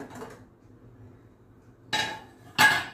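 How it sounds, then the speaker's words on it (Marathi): Near metallic clanks of a pressure cooker lid being opened, two sharp bright hits after a quiet stretch, with a faint clatter at the start. "आता आपण कुकर उघडून बघूया।"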